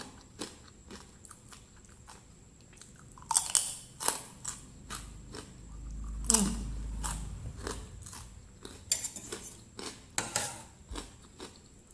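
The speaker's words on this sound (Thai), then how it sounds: "กากหมูอร่อย ก็กรอบ" Crisp crackling pork rind is bitten and crunched with green papaya salad, a run of close, sharp crunchy bites and steady chewing at an even pace with no talk.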